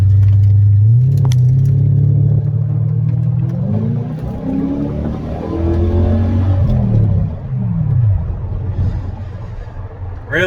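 Red Ford Mustang 5.0 with a ProCharger supercharger at a Friday night car gathering, its engine rumbling loudly nearby and revving up and down in several swelling pulls.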